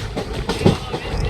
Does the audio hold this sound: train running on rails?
yes